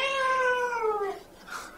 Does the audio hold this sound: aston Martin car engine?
no